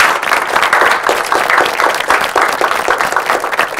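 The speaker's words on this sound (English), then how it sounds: "Let's clap for her" A live audience claps for a woman being honoured on a show, dense steady applause filling the room without pause and fairly loud throughout.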